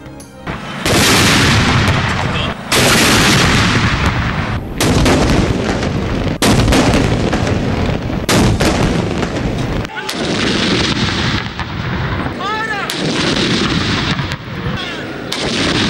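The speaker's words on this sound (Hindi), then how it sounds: "ईद मिलादुन्नबी सल्लल्लाहु अलैहि वसल्लम और यौम दिफा के दिन के आगाज़ पर तोपों की सलामी" Ceremonial cannon salute fired at dawn for Eid Milad un Nabi and Defence Day in Pakistan: a series of loud, heavy booms, roughly a dozen in quick succession with short gaps, each blast rolling into the next.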